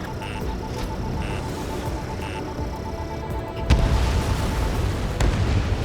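Bombs exploding on target in the Ace Combat 7 video game, a deep rumbling roar under steady engine drone, swelling with a heavy boom partway through and continuing loud with no voices.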